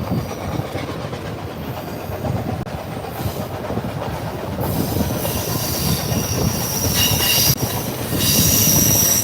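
Steam locomotive 2102 working hard while hauling an excursion train to Pittston, heard as a dense, continuous rumble of rolling cars, rail clatter and squealing wheels that builds louder toward the end.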